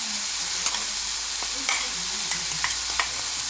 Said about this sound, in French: Ensuite, on va mélanger tout ça